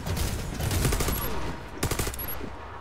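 Rapid bursts of automatic gunfire crackle through a cooperative PVE shooter match set in Pripyat, dense at first and then in shorter volleys, with players' voices faintly underneath.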